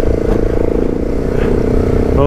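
A motorcycle engine drones loud and close while the bike is ridden off-road over sandy, clay-based track, a steady rumbling roar with some clatter.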